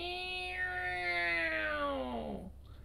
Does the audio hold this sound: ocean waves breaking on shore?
no